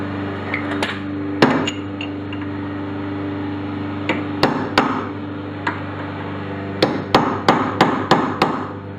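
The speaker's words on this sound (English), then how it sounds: "just go ahead and hammer the little notch back down" Metal hammer strikes ring out over a steady mechanical hum as a notch is hammered back down on a 2001 Honda Civic rear wheel hub: a few scattered blows, then a quick run of five or six evenly spaced hits near the end.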